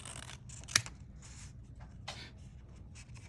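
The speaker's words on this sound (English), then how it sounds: "we're going to cut out our first set of pumpkins" Scissors cut out paper pumpkins for a garland, a series of short crisp snips and rustling paper strokes, close and fairly clear in a quiet room.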